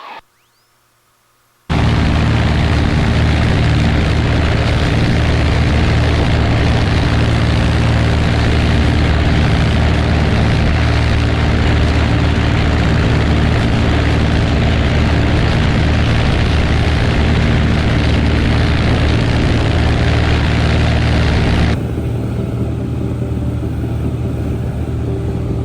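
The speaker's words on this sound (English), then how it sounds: "Pretty gusty landing there at Lake Anna" Propeller airplane landing at Lake Anna in the Virginia Piedmont amid gusty, shifting crosswinds; a loud, steady engine drone with heavy wind buffeting runs continuously after a quiet start, then drops slightly in level near the end.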